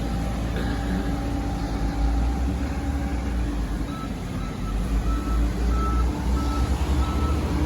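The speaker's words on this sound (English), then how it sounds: "Looks like they're like cleaning the beach or something down here with a backhoe though" A backhoe cleaning a beach sounds its reversing alarm, evenly spaced beeps repeating over a low diesel rumble and wind noise, moderately close.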